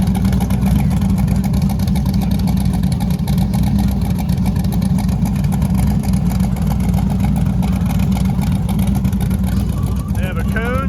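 A no-prep drag race car engine roars at a loud, constant pitch, filling the whole stretch without a break, while a voice talks over it.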